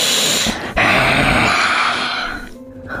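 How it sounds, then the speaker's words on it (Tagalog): A deep, animal-like growl from an old man serves as a horror story sound effect, a rough, guttural snarl that swells, breaks off briefly and then rumbles on before fading near the end. "Angil pa ng matanda pagkatapos ng kanyang pagwika na parang kung anong animal yung tunog"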